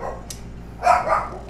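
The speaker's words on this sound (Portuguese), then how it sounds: "Ô, Bunny, para de latir, Bunny." Bunny the dog lets out a single short, close bark, loud against faint room noise.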